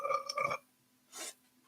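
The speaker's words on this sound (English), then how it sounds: "They heard you burp" A person burps twice during a livestream: a longer, voiced belch first, then a shorter one after a brief pause, both close and fairly quiet.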